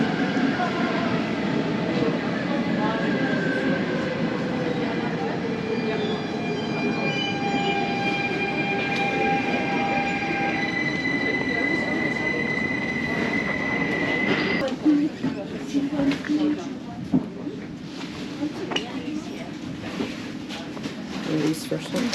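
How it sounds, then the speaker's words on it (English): A Bernina Express train at the platform in Chur, Switzerland gives off steady rumbling and long sustained wheel squeals and tones, then a noisier stretch of clanks and knocks as it moves, with station ambience and voices talking. "awaiting yet another iconic train here in Switzerland. It is the Bernina Express."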